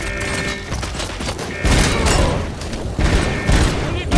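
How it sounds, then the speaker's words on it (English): Enemy rocket fire in the RoboCop: Rogue City game world, a dense barrage of booming launches and thudding impacts that surge loudly around the midpoint and again near the end, with mechanical clatter between blasts. "It's shooting like a poisonous rocket."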